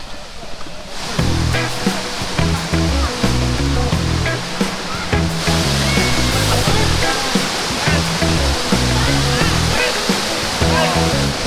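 Bolinao Falls in Pangasinan pours down in a loud, continuous rushing roar of falling water, heard up close and steady throughout with no voices over it.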